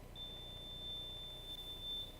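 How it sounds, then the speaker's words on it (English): A buzzer at a conference venue gives one steady, thin electronic tone for about two seconds, faint against quiet room noise, and ends with a small click. "All right, so there, we have the buzzer."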